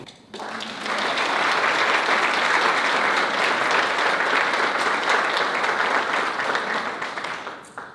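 Audience applause fills a military commander's call, a dense, steady wash of many hands clapping that swells in after a brief start and holds loud for several seconds before tapering at the end.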